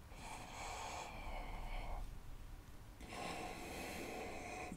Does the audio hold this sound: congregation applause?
no